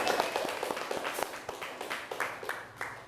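Classroom applause for a student presentation group, a steady patter of many hands clapping at a moderate level for about three seconds, with no talking over it.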